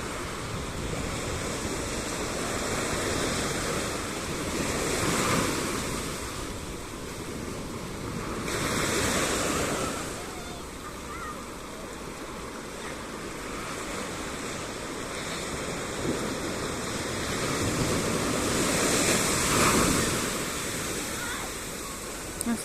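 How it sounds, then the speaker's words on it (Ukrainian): Ocean waves roll in and break repeatedly, a broad hissing surf that swells and recedes every few seconds, with occasional talking beneath the roar. "І ось так шумить океан."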